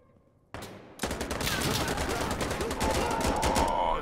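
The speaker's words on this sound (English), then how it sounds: "Oh, it's shooting right over my head." Sustained automatic gunfire cracking overhead in Insurgency: Sandstorm, starting abruptly and continuing as a dense, loud, unbroken stream of rounds for several seconds.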